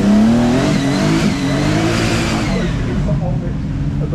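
A supercar engine revs loudly at the start line of the Goodwood Festival of Speed Michelin Supercar Run in wet conditions, a sustained rising roar with a commentator talking over it.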